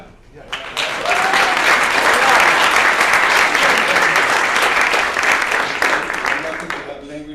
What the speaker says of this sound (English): An applause for Len, because he did a great job.